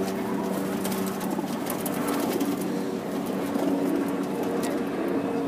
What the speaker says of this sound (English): Very beautiful pigeons, all white.